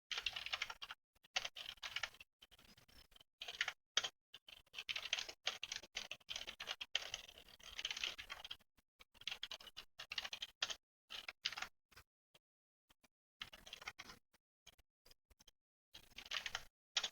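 A config file is typed out on a computer keyboard: close, quiet key clicks in quick irregular bursts, broken by short pauses, with no talking.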